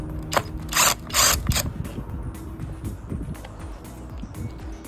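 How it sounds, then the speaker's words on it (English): Two 10mm bolts being undone on an MK6 Escort van, with a few sharp ratchet clicks and metallic clanks early on, then quieter tool rattles close by. "we're just going to undo 2 10mm bolts here"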